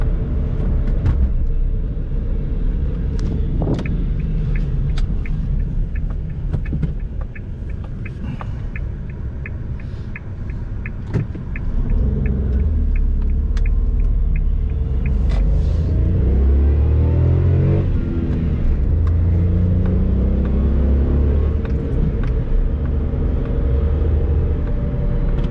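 A Suzuki Alto small car engine runs and revs steadily, with a low rumble that rises and falls as the car pulls away on the road, close by and loud throughout.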